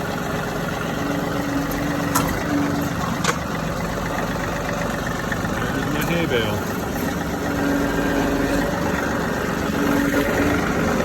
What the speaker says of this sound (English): It's a 3038, so it's a 38 horse John Deere 3000 series